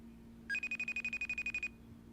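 A telephone rings back in the earpiece while a call is placed, one short burst of rapid electronic trilling pulses, clear but fairly quiet over a steady low hum, with no voices.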